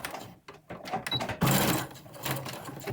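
A sewing machine stitching back and forth over elastic on a fabric face mask, its needle whirring in a fast, rattling, close run with brief stops and restarts.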